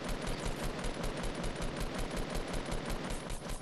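Sustained rapid gunfire from Fortnite video game combat, dense automatic bursts running continuously and loudly with no pauses.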